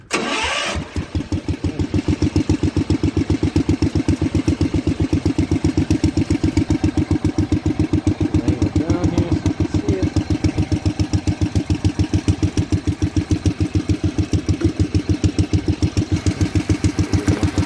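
A 1979 Power King tractor engine starts, then settles into a steady, rhythmic chugging idle that continues loudly and evenly throughout.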